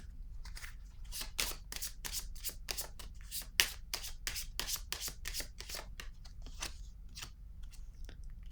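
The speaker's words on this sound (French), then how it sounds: "Attendez, je vais piger une carte." Cards from a tarot deck being handled and drawn: a steady run of crisp, papery flicks and shuffling snaps, close and moderately soft, with no talking.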